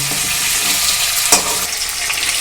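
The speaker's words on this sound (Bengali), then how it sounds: "মাছের মাথাটা কিন্তু ভালো করে ভাজতে হবে কাঁচা যেন না থাকে অথচ পুড়েও যেন না যায়" A broken fish head fries in hot oil with a dense, continuous close sizzle and a brief clink of stirring partway through, no voices.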